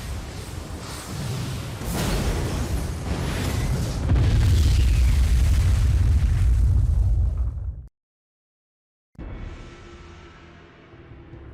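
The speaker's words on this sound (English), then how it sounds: "it's shooting them all down with laser cannons." Heavy booming blasts and roaring bursts of sci-fi laser cannon fire shooting down dragons in the video game Star Ocean: Till the End of Time, loud and sustained, then a brief silence before fainter rumbling resumes.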